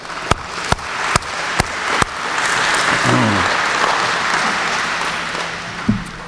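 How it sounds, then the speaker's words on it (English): Crowd applause for city employees at a state of the city address, preceded by a few sharp, spaced knocks, then a broad swell of clapping that holds steady and ends with a final thump. "let's give all of our employees a round of applause."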